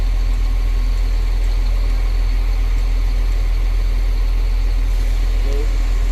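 A newly overhauled CAT 950H wheel loader engine runs with its revs drifting slightly up and down, a loud, constant low diesel drone that fills the whole stretch.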